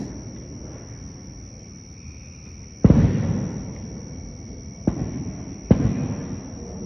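Three sharp bangs go off at irregular intervals, fairly distant, each echoing briefly over a quiet night background with faint insect chirping.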